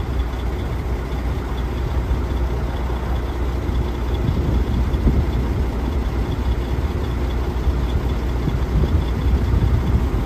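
A 2006 Freightliner Business Class M2 112 truck engine idling while its trailer lowers, a steady low diesel rumble with a constant broadband hum, close and continuous, no talking.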